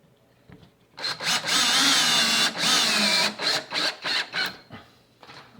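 Close, loud power drill whirs sinking screws into a tall, skinny wooden soap loaf mold: two sustained runs followed by a string of short stuttering pulses, with no talking.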